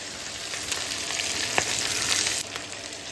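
Carrot, onion, capsicum and cabbage sautéing in a pan, a continuous close hissing sizzle with soft stirring scrapes and one brief clink midway, no voices.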